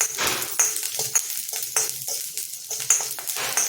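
Ginger and green chillies fry in a small spoonful of oil with a steady close sizzle, broken by a few sharp stirring scrapes and light clinks of a spoon against the pan.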